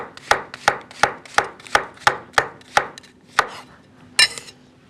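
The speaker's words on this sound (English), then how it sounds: "And then turn the mushroom over and just thinly slice." A knife slices thinly through mushrooms on a cutting board in about ten crisp, evenly spaced taps close to the listener, with no talk over them.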